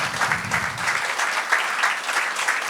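A church congregation applauds warmly during a service, a dense, continuous patter of many hands filling the room at steady volume.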